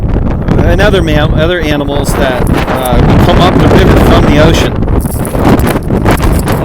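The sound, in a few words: wind blowing at the Columbia River Gorge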